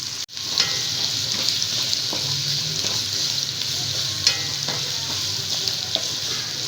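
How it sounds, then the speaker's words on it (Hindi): Onions dropped into hot oil for fish curry, frying with a loud, continuous bright sizzle and a few sharp spatters and spoon taps, close up and with no voices. "ऑयल गर्म हो चुका है, तो डाल दी प्याज"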